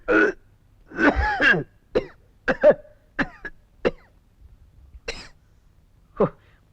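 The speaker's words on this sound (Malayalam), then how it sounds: "നിന്റെ ചുമയൊന്ന് നിർത്ത്" A person coughs in a series of harsh, close bursts, some rapid and clustered, others spaced out with short quiet gaps between.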